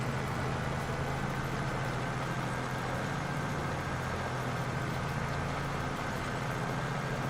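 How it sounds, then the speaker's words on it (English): A tractor engine in the Farming Simulator 25 video game drones at a steady idle, a constant low rumble and hum that continues unbroken without any talk. "I don't think anything covers the sound of my tractor"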